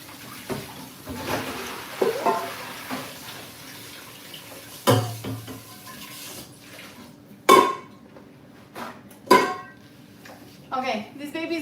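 Rice being washed in water at a home kitchen sink, with splashing, sloshing and sharp clinks of a pot, irregular and close, over a running tap.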